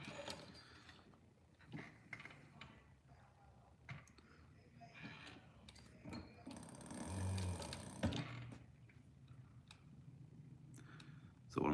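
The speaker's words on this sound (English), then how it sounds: "I'm back stitching these holes here" Custom cowboy boot being back stitched by machine, a run of quiet mechanical clicking and whirring with irregular ticks and a louder burst midway, over a low background.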